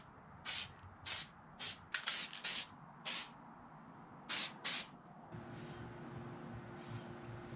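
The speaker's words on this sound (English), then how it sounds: "they recommend spraying it on both sides of the head gasket" Short hissing bursts of spray sealant coat a metal head gasket during an SR20DET engine build, about nine quick puffs in irregular rhythm, close and crisp, followed by a low steady hum.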